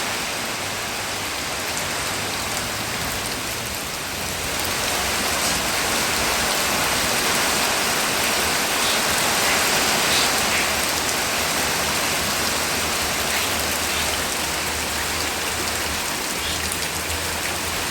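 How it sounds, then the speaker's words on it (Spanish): Steady rain pours down outdoors in San Miguel, El Salvador, a dense, even hiss that holds at the same level throughout with no voices. "Miren qué bendición, ve, ya está lloviendo"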